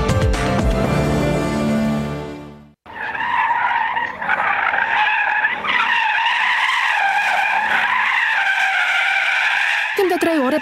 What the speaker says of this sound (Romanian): au făcut demonstrații de derapaj controlat